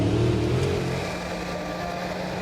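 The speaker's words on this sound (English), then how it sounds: "So the final tractor up now of the 5 Eurocup tractors competing today." A modified-class pulling tractor powered by four Hemi V8 engines at a Eurocup tractor pulling event in Brande, Denmark, gives a loud, steady, rumbling engine drone that eases slightly after an initial surge, with no talking.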